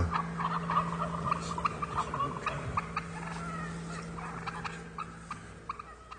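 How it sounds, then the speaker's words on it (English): Wild turkey gobblers gobble back and forth outdoors in answer to hen calls, with repeated rattling gobbles at moderate distance over a low steady hum. "Dan and Larry are making the calls of the hens, and gobblers talk back."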